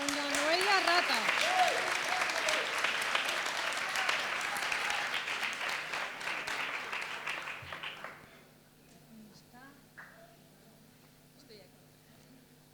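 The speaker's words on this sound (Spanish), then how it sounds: "Un aplauso para Charo, por favor." Sustained crowd applause at a gala event, dense and steady for about eight seconds before tapering off into a quiet room with faint voices.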